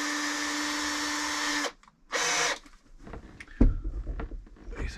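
A power drill whines at high speed drilling into a boat hull, stops, spins briefly again, then gives way to scraping and a sharp knock nearby.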